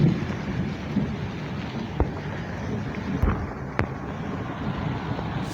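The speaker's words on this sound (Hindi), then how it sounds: "बारिश तो काफ़ी तेज़ होने लग पड़ी है" Heavy rain pours down during an early morning walk, a steady wash of falling water with a few sharp drips or knocks, moderately loud and continuous, with no talking.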